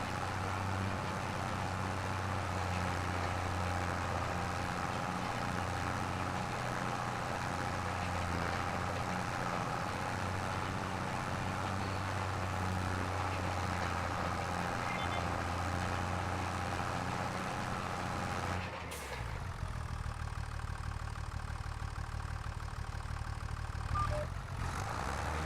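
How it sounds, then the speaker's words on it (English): A Mack truck engine in a farming video game idles and rumbles in a deep, steady drone for most of the stretch. It cuts briefly near the end and then resumes more quietly, with no talk over it. "that Mack truck actually has a good sound pack"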